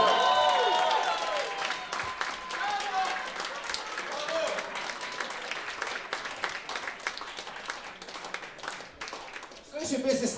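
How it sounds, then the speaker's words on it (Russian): Audience applause fills a live blues concert, a dense, steady clatter of many hands that continues throughout, with a voice and some musical tones over it at the start. "Аплодисменты!"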